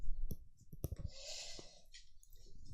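Scissors cut fabric around a paper pattern piece laid on the fold for a top, giving a series of close crisp snips and clicks that sound alone.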